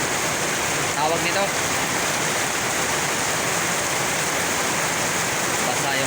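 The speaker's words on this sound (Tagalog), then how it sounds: "Grabe laka ng ulan" Heavy rain pours down in a steady, dense roar of hissing water that stays loud and unbroken throughout, with someone speaking briefly over it.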